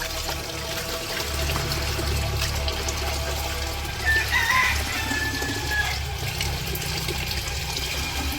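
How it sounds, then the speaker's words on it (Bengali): Chickens cluck in a village home yard while being given water. The clucking is scattered and moderately close over a steady low hum and faint background noise, with a brief brighter call midway. "মুরগিরে পানি দিব"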